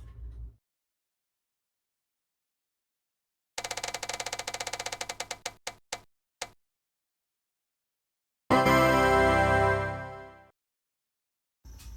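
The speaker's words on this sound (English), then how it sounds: "So I guess we'll just spin that wheel." A prize wheel is spun, giving a rapid ratcheting clicker that slows into a few spaced final ticks, followed later by a short burst of loud electronic fanfare-like noise, close with no talking.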